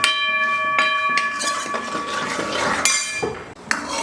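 Jaggery being stirred into a pot for a sweet of coconut and beaten rice (aval), with loud metallic clinks and scrapes of a spoon against the vessel, repeated irregularly and close by.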